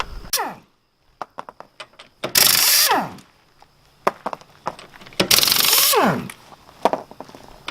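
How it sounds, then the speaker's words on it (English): A car jack raising the rear of a Volvo V90 with a full aluminum rear cradle, heard as close mechanical clicks and ratcheting strokes broken by two loud, longer grinding bursts, with no talk. "The jack, all ready to lift this thing up."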